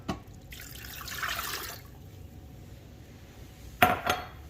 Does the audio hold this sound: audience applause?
no